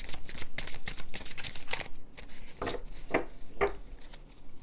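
A deck of tarot cards is shuffled close up, with rapid riffling flutters at the start followed by a few separate slaps and snaps of cards being handled.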